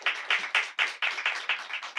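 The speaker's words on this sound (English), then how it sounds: "Can we give a round of applause to them?" Audience applause for a panel of guests at a Black History Month fireside chat, a steady burst of many hands clapping close by with rhythmic swells, no talking over it.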